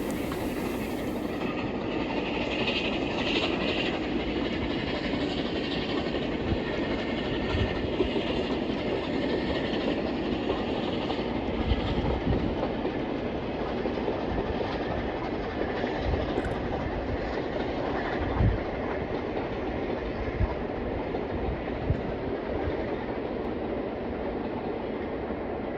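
Steam locomotive City of Wells 34092 passes on the East Lancs Railway during a Santa Special, a long steady rumble of wheels and carriages with rhythmic clickety-clack beats, continuous and fairly close.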